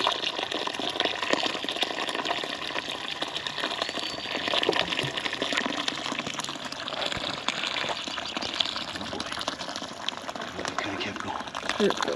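Maple sap pours steadily into a boiling pan, a continuous liquid gush and bubbling at moderate level under intermittent talk throughout.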